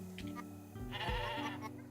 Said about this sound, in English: Now, where is this damn sheep?